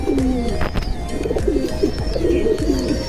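Silver pigeons coo in a steady string of low, throaty rolling calls, near and fairly loud, with no voices.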